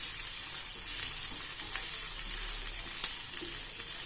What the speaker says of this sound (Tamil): நல்லா பூண்டு எண்ணெயில் நல்லா வதக்கிக்கலாம்.